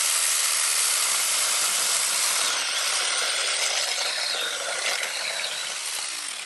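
An ORBLON 6-inch brushless cordless chainsaw cuts through a birch log about 3.5 to 4 inches thick, a loud, steady, high whining buzz of the chain in wood, sustained without pause and easing slightly near the end.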